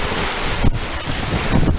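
Steady roar of wind buffeting the microphone over rushing waves on a boat under way out of Enkhuizen on the IJsselmeer at Easter, loud and continuous, with brief surges of water splash.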